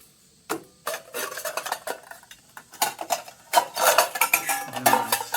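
Stainless steel camping plate and skillet being handled, with a run of light metallic clinks and scrapes that grow busier and louder toward the end, no talking.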